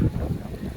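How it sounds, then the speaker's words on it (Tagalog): Strong typhoon wind on Lamma Island, Hong Kong, during heavy rain, heard as a brief low rumbling gust buffeting the microphone, loud and close. "Lakas ang hangin eh."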